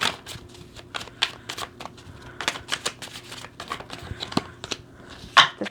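Tarot cards being shuffled and drawn, a run of crisp close flicks and slaps at an uneven pace, some louder snaps among softer riffles, no speech.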